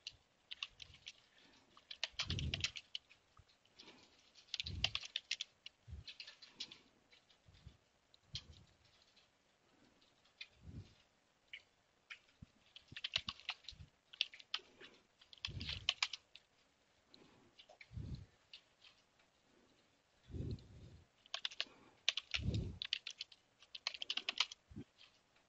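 Computer keyboard typing in a Linux terminal on Ubuntu, heard as irregular bursts of close, crisp key clicks with short pauses between runs, no voices.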